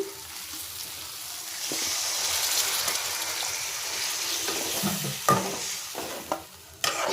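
Water is poured into a sizzling pan of mita shorwa, a steady gush over frying hiss followed by a few close clinks and stirring knocks near the end.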